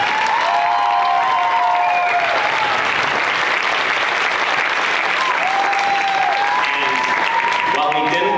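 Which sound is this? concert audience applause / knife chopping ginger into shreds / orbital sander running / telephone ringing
concert audience applause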